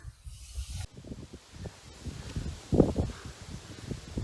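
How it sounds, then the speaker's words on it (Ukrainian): Gusty wind on a clifftop above the Southern Bug river buffets the microphone with low rumbling roars and rustling bursts, loudest in the second half, with faint voices under it. "Класний вітер такий."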